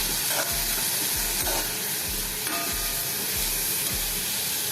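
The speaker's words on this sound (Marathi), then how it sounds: "थोडासा आपण कोबी पण घेतलेला आहे तो पण आपण फ्राय करून घेऊया" Chopped capsicum and cabbage fry in a pan, giving a steady loud sizzle throughout with repeated scraping strokes from stirring and no talking.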